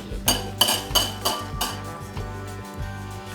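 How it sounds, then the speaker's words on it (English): Dry flour, baking soda, baking powder and salt being mixed in a bowl for a vegan coconut cake, with a series of close clinks and taps of utensil against bowl over soft background music. "combine the dry ingredients, so the flour and baking soda, baking powder, and salt, and give them a good mix together"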